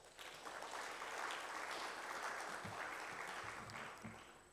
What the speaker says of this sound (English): Maybe you can give yourself a round of applause.